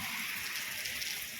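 Steady rain falls in Jazan, Saudi Arabia, a continuous soft hiss of drops that stays even and fairly close throughout, with no voices over it.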